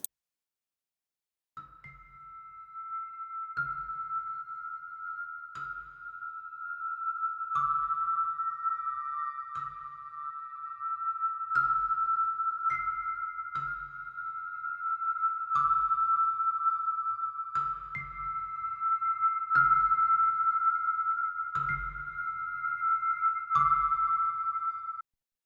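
Heavyocity ASPIRE virtual instrument playing a repeating pulsing synth tone with stereo delay, warble and noise, steady bright notes shifting pitch slightly every couple of seconds over soft low thumps, alone without talk.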